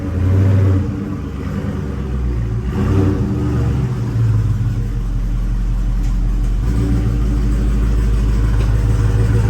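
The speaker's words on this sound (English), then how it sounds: "This exhaust sounds so good" A 2021 Dodge Charger's exhaust rumbles loudly and deeply, swelling briefly near the start, then holding a steady throaty drone.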